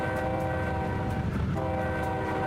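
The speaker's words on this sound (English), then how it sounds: "Probably should whistle for that." A train horn in the Trainz 19 game blows one long, steady chord at a crossing for the whole stretch, loud and sustained over a low rumble of rolling wheels.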